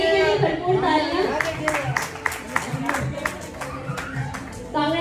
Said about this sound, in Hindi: छोटे अली के लिए भरपूर तालियां